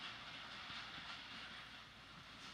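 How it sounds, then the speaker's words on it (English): A train emerges from a tunnel as a continuous broad rushing hiss and rumble, steady and moderately distant, with no voices. "Here comes the train outside of the tunnel."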